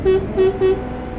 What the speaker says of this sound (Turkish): Şu korna çok tiz çıkıyor yalnız.